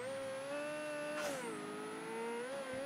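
A car engine in the video game Mafia III hums and revs at a moderate, steady level, with a smooth engine tone that dips and swells slightly over a few seconds and no speech.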